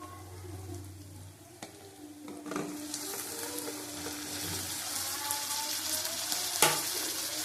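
Chopped tomato hitting hot oil in a frying pan while cooking a pea-and-egg ghugni, giving a steady broadband sizzle with stirring scrapes and a few sharp clicks, close and continuous with no talking.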